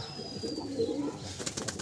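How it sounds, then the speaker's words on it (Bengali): Madrasi pigeons of a Kerala bloodline give a faint, low cooing over quiet background noise, with a brief rustle of movement toward the end. "কেরালা থেকে আনা ব্লাড লাইনের পায়রা"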